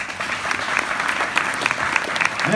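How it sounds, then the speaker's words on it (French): Festival audience applauding, continuous dense hand clapping from a crowd that stays steady and fairly loud for the whole short stretch. "On peut s'applaudir."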